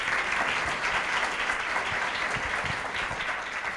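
Steady, dense applause from an audience at a circular-opportunities pitch event in a museum, sustained and even throughout without a break.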